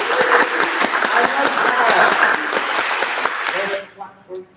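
An audience at a Howard University gathering on domestic and sexual violence awareness in the African immigrant community breaks into loud, sustained clapping that fades out near the end as a voice begins speaking.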